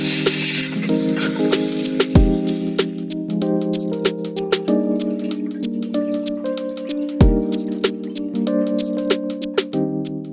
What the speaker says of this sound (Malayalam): ഉരുളി ചൂടായി. ഇനി ഫസ്റ്റ് ഞാൻ കുറച്ച് വെള്ളം ഒഴിക്കുവാണ്